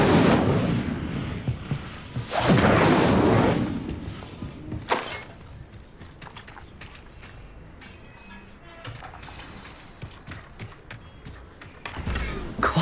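A fire spell cast in Hogwarts Legacy bursts out as two loud, roaring whooshes close together, then a sharp crack, before the scene settles into a quieter rumbling bed with scattered clicks.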